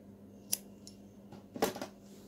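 Scissors snip through knitting yarn after the stitches are cast off, with a light metallic click followed by a sharper cutting snip, close and quiet, with no talking.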